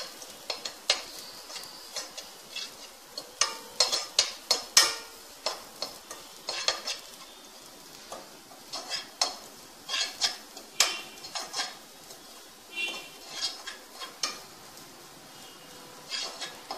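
Foxtail millet dry roasting in a pan, stirred with a spoon, giving a series of light scraping and clicking strokes in an irregular rhythm, close and fairly quiet, with no speech.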